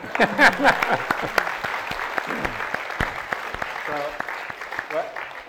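A small group claps, scattered and uneven at first, then thinning out, with voices talking over the applause.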